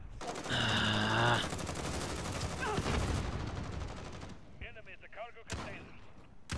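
Rapid bursts of gunfire from the video game Modern Warfare, with a Gold Grau 5.56 rifle loadout, crackle loudly through most of the stretch, mixed with game effects and a voice talking over the action.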